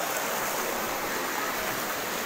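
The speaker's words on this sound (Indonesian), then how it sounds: "Air meluap." Floodwater overflowing and rushing in a strong current during flooding in Medan, North Sumatra, a dense continuous roar close by with no pauses.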